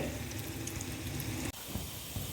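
Chopped onion sautéing in about three tablespoons of coconut oil, a soft, continuous hiss and sizzle heard close up, with one brief dip near the middle and no voices.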